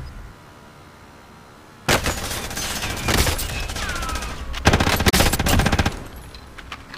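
Call of Duty battle royale gunfire: after a quiet stretch, a sudden loud burst of rapid automatic fire erupts, with repeated bursts and sharp shots continuing in dense volleys, close and aggressive.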